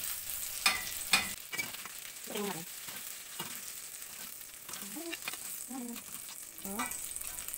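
Garlic, onion and green chili sautéing in a pan, a steady soft sizzle with a few sharp clinks of a utensil near the start and intermittent stirring scrapes throughout.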